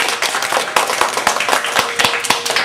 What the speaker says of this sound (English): Now clap if you think two is.